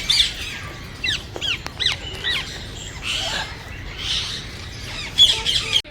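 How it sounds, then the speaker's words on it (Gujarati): Many parrots in a netted aviary at Sarthana Nature Park in Surat squawk and chirp in overlapping, shrill bursts, fairly close and continuous, with no talking. "અહીંયા અમે પોપટ જોવા માટે આવી ગયા છીએ અને બહુ બધા પોપટ છે"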